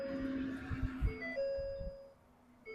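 The electric fuel pump of a 2012 Ford F-350 6.7 Powerstroke diesel truck priming, whining and humming at shifting pitches alongside a few low mechanical thumps, fairly quiet and close.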